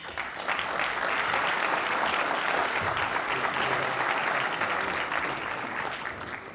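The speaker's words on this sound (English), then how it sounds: "I know you already applauded him" Sustained applause from a large audience at a Latino Leaders Network tribute to mayors, a thick, continuous wash of clapping that stays loud throughout.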